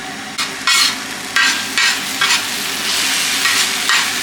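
Sour yogurt whisked with turmeric in a bowl, loud rhythmic bursts of whisk strokes in repeated pulses, close and alone without voices.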